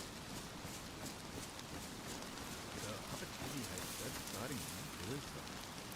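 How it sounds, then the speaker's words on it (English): Steady rain pours down in the DayZ survival game, a constant close hiss that fills the scene while someone talks over it. "Getting rained on. It's hard to hear."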